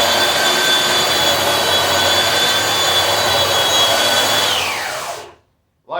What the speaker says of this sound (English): you start off with a belt sander, you start off going